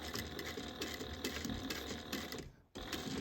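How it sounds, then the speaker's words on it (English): A sewing machine stitches D-ring tabs onto a small fabric bag, running in a steady close mechanical hum with a brief stop before resuming. "sew that on at 1/8 of an inch"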